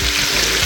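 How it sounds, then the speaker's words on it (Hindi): Large sliced onion frying in hot oil to brown for a chicken saag, a steady dense sizzle throughout, close and continuous with no voices. "ये एक बड़े साइज़ का प्याज काट लिया था, इसको ब्राउन करेंगे अच्छी तरह।"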